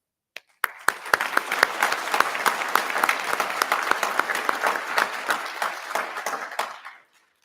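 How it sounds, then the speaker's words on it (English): A graduation audience at a Kansas law enforcement training center breaks into applause, starting with a few sharp claps, swelling into steady, dense clapping from many hands, then fading out abruptly. "we owe you a huge round of applause"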